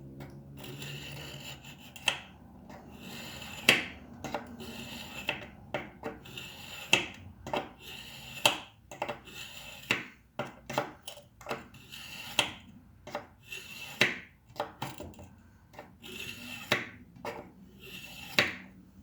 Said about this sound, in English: I am just going to use this to touch up my knife.